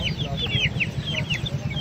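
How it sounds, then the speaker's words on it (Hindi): Chicken chicks for sale peep in a rapid, continuous cluster of high chirps, close and lively, with no talking over them. "ये मुर्गी के बच्चे हैं"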